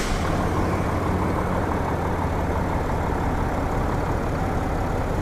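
A big Cummins diesel truck engine runs at a steady, dense roar, loud and close, with no talking, though the start-up itself is not clear.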